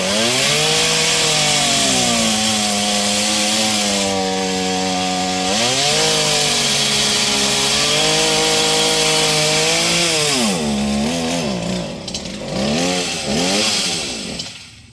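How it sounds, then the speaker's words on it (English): A new chainsaw from Lowe's runs loud and close while cutting down a tree, its engine droning steadily with pitch rising and dipping as the throttle changes, then revving unevenly toward the end. "my baby took off running when Kimmy turned that chainsaw on."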